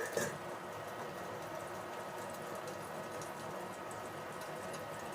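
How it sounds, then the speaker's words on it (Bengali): Five paneer paturi parcels cooking in a lidded kadai over a low-to-medium flame, a steady, even hissing sizzle that holds close and constant, with a small clatter at the very start. "এবার আমি পাতুরিগুলোকে এর মধ্যে দিয়ে ভেজে নেব।"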